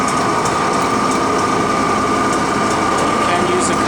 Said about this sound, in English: the bandsaws are set for fairly slow